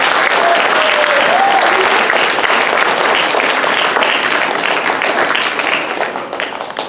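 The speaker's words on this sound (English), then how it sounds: "Let's give her a round of applause." Audience applause at a book launch in Delano, a dense, steady clapping crowd filling the room close by for about six seconds before it begins to thin out at the end.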